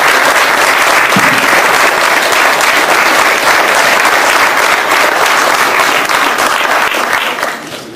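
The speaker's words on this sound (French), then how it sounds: "Oui, je crois qu'on peut applaudir." Steady, dense clapping from a large audience, loud and sustained throughout before tapering off slightly at the very end.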